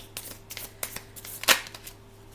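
Tarot cards being shuffled by hand, a quick series of soft riffling flutters building to one sharper slap, close and quiet over a faint steady hum.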